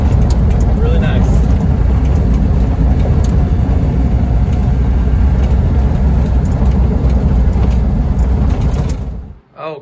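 A 1990 Land Rover Defender with the 200Tdi diesel engine drives along, its loud, steady drone and drivetrain rumble filling the cabin without a break until it drops away abruptly near the end.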